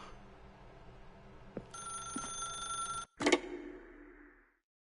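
A telephone rings in The Stanley Parable video game, a bright electronic tone holding for a second or so and then cutting off, followed by a louder click as the handset is picked up, with a soft room hum underneath.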